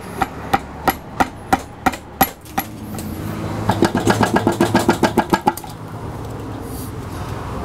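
Metal tool tapping the lower unit of a Yamaha 70hp outboard motor, a steady series of sharp single knocks followed by a faster run of taps over a low engine-like hum.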